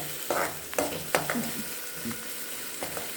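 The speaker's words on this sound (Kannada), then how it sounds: "ಆನಿಯನ್ಸು ಸ್ವಲ್ಪ ಚೆನ್ನಾಗಿ ಫ್ರೈ ಆಗಲಿ." Onions fry in a pan for egg fried rice, a continuous moderate sizzle broken by several sharp scraping stirs near the microphone.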